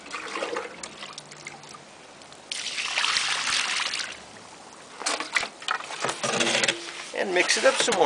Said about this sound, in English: Now we'll throw in another can of water.